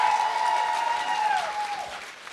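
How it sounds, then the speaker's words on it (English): A crowd claps steadily in sustained applause at an awards ceremony, with a faint whistle-like tone gliding downward through it. "Please give a warm round of applause for Henry Bullingham."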